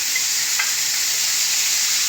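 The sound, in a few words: seasoned steak sizzling in a ceramic pan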